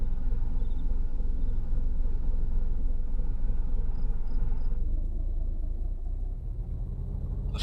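Car engine rumbling steadily as the vehicle drives along in ARMA 2, a continuous low drone that eases off and gets quieter near the end, with a few faint electronic beeps and no talking.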